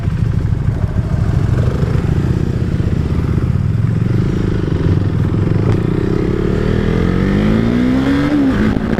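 A KTM 390 Duke motorcycle engine pulls hard under acceleration, loud and close with steady wind roar, its tone climbing in a rising whine near the end.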